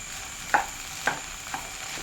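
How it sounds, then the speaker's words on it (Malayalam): Idli upma is stirred in a pan, with three soft, spaced scrapes of a spatula over a faint background sizzle. The strokes are quiet and close, with no talking. "നല്ല പോലെ ഒന്ന് മിക്സ് ചെയ്ത് കൊടുക്കാം"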